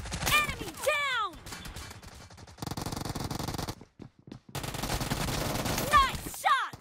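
Bursts of gunfire from the BGMI mobile battle game, gun game mode in a hangar, loud rapid volleys with sustained automatic stretches and brief pauses, mixed with game announcer voice lines.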